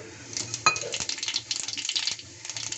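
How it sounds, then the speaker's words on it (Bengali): Cumin seeds hit hot oil with a brief burst of crackling sizzle, spattering pops and a few utensil clinks against the pan, close and with no talk. "তেল গরম হয়ে গেছে, দিয়ে দিচ্ছি জিরে ফোড়ন"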